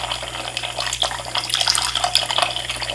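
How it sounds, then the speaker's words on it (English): Running tap water splashes steadily while three makeup brushes are wetted under it, a close, continuous hiss with small irregular spatters and no voices. "So I wet like 3 brushes."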